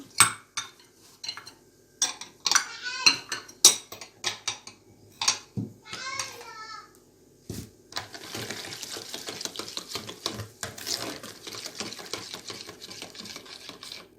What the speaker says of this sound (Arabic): هنقلب كل المكونات اللي انا عملتها دي مع بعض